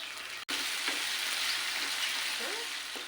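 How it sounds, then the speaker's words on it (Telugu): Curry leaves fry with ginger garlic paste in a pan for a tangy taro and egg curry, giving a steady, even sizzle with a brief dropout near the start and faint stirring knocks. "కొంచెం ఫ్రై అయింది కదా కరివేపాకు వేసుకుంటున్నాను"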